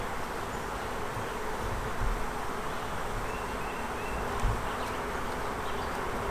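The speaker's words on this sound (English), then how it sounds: "There's a good amount of bees in here" Honeybees buzz inside an open hive during an inspection, a dense, steady drone that fills the whole stretch at an even level with no talking.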